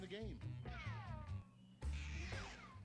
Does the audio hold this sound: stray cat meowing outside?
yes